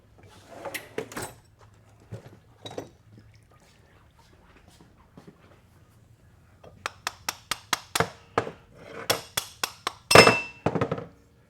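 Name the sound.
hammer striking metal parts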